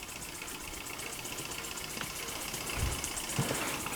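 A Märklin 4113 model donkey steam engine runs steadily, its flywheel slightly wobbling, giving a fast, even rhythmic chuffing and mechanical clatter close by, with a couple of brief low knocks near the end.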